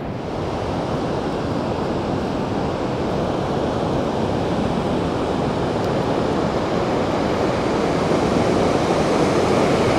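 Vøringsfossen waterfall in Norway roars as a loud, steady, unbroken wash of rushing water that fills the whole scene without letting up, with no voices.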